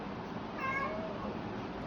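A cat meows once after eating cat food, a short, fairly faint mew that rises then drops, over a steady background hiss with no talking.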